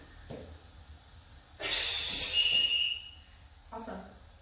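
Big breathy exhale during a workout, a single forceful airy rush lasting about a second and a half in the middle, with faint breaths before it and a shorter puff afterward.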